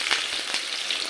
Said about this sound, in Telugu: కరివేపాకు బాగా ఎర్రగా వేగాలండి.